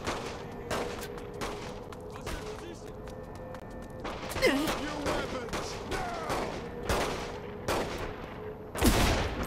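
Gunfire in Saints Row: The Third Remastered during a mission to get weapons: scattered sharp shots break out through the clip, some single and some in short bursts, over game sound and a talking voice.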